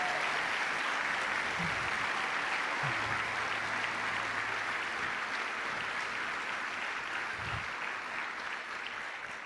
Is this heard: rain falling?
no